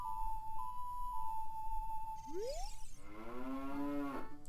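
A cow moos in the video game Ocarina of Time: a long, drawn-out bovine call that follows a few clear, sustained game tones, heard alone with no talk.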